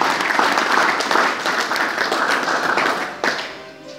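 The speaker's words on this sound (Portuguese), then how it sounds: "Est-ce qu'on peut acclamer pour la parole du Seigneur?" A church congregation applauding during a bilingual French and Portuguese sermon, steady dense clapping from a sizable crowd that carries on for several seconds before tapering off into quieter scattered claps.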